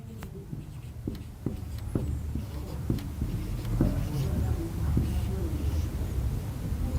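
Chalk or a marker taps and scratches across a classroom board in short irregular strokes, fairly close, with a teacher's voice heard alongside.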